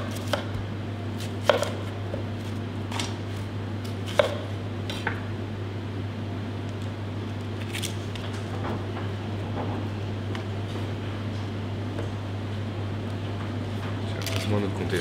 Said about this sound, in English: We're gonna use what we call a press puree,